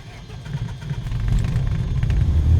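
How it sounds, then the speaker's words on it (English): A Cessna 152 light aircraft engine starts on the airfield, a low, uneven rumble that grows louder and steadier as it catches and settles into running. "Then beacon light on so that everybody on the airfield will know we are starting the engine"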